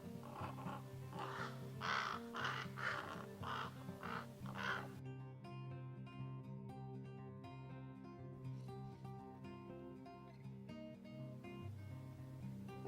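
A raven gives a run of repeated harsh croaking calls in a steady rhythm over the first few seconds, then a tonal musical backdrop carries on without talk.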